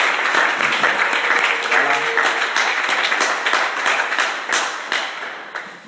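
A church congregation applauds at an afternoon worship gathering, steady dense clapping filling the whole stretch, with a brief spoken word from the leader over it.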